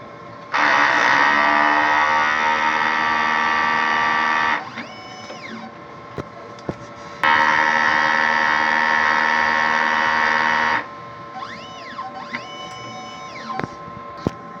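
An inkjet printer runs a head-cleaning cycle, giving two long, loud steady mechanical whirring stretches of about four seconds each, separated by short clicks and quieter motor chirps, with no voices.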